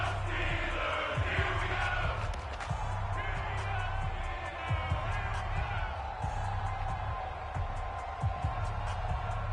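A stadium crowd in a Madden football video game roars steadily with rising cheers, while a commentator talks over the noise throughout.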